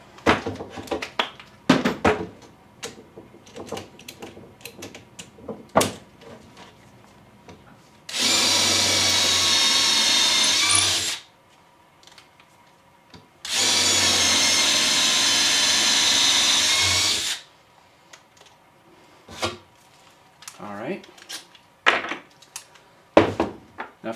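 A Festool C12 cordless drill drives into wood in two loud, sustained bursts of a few seconds each, separated by a brief pause, with scattered clicks and handling knocks before and after.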